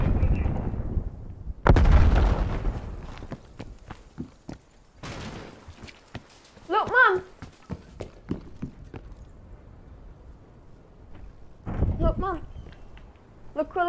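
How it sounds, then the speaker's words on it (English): Call of Duty Cold War gameplay with grenade explosions and bursts of gunfire, a heavy low blast early on followed by scattered sharp shots and crackling impacts, mixed with game sounds and voices talking throughout. "Throwing grenade."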